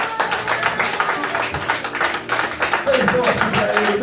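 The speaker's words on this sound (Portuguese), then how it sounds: "Aplauda o Senhor." A church congregation claps along during a worship service, a dense, steady patter of many hands filling the room, with music and voices blended underneath.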